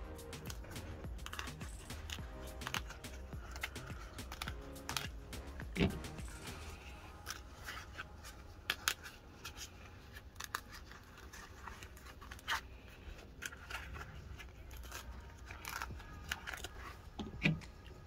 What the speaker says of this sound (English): remove the leather